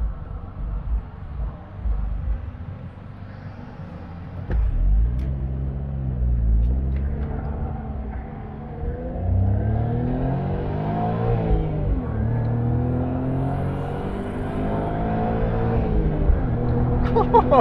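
A Suzuki Cappuccino sports car pulls away after a U-turn, its small engine rising through the revs under steady acceleration, with the pitch climbing and dropping across gear changes and a constant close-up rumble throughout.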